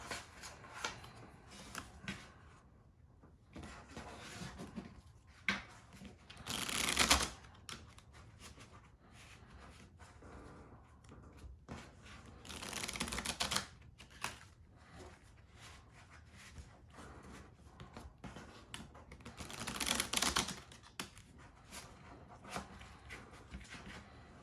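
Playing cards for a tabletop pro wrestling promoter game get shuffled nearby in several riffling bursts, separated by quieter shuffling and handling noises.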